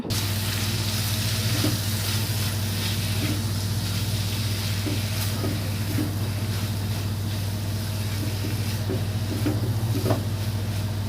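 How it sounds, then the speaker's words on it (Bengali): Fish jhuri made from long-frozen fish, seasoned with salt and turmeric, sizzles steadily in a pan while being stirred constantly, a continuous frying hiss with faint scraping taps throughout. "এই মাছ ঝুরিটা করার সময় অনবরত নাড়তে হবে, কারণ যদি লেগে যায় তাহলে পুড়ে ধরবে"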